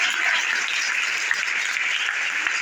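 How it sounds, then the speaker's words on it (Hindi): Audience applause for a teacher at a motivational lecture, a steady dense roar of clapping from many hands that holds evenly throughout with no pauses. "मैं आप सबसे दरख्वास्त करूंगा एक दफा भरपूर तालियां करें अपने सर के लिए।"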